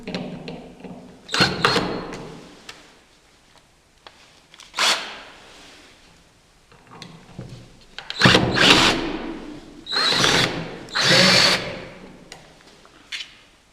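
A power drill backs a screw out of Murphy bed hardware in short loud whirring bursts separated by pauses and quiet handling noise.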